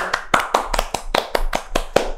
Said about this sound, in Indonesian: Tepuk tangan dong kita semua